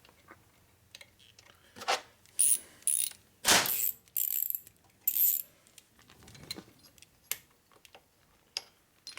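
A torque wrench tightens a stud on a 1961 Harley-Davidson Sportster XLCH during a motor and transmission rebuild, giving a run of sharp metallic clicks and ratcheting bursts, close and loud, with quieter tool taps between them.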